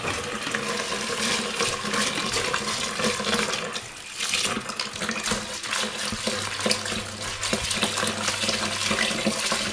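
Tap water runs steadily over grain set to soak as chicken feed, a continuous close rushing and splashing that fills the whole stretch with no talk.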